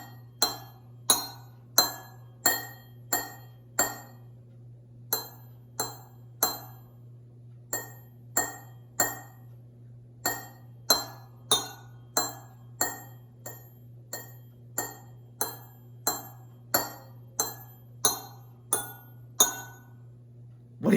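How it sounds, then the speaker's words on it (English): Homemade rainbow glass xylophone tapped out as Mary Had a Little Lamb, a steady run of bright, ringing glass strikes in melodic rhythm with brief pauses between phrases, close and clear with no talking. "I'm gonna play a song on the rainbow xylophone, see if you can tell what song this is."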